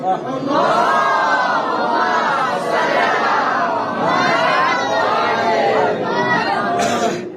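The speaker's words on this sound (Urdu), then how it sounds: "ایک بلند ترین زندہ جیسی صلوات بھیجیے" A large crowd of worshippers at a religious gathering chants salawat together, loud and sustained in rising and falling waves, close and continuous, with a brief sharper burst near the end.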